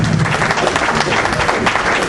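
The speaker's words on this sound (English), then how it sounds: "Let's put a big round of applause." Audience applause for a comedian at a live comedy show, a steady, dense wash of clapping that holds evenly throughout without pause.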